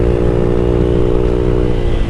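A motorcycle engine revved hard, a loud, close, steady mechanical drone with a rough low rumble held for about two seconds, no speech over it.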